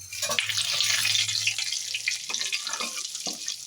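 Panch phoron, a slit dried chilli and two bay leaves fry in hot mustard oil with a close, bright, steady sizzle and spitting crackle that tapers slightly, with no one talking.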